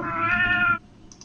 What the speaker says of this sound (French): Oh, il y a un petit minou.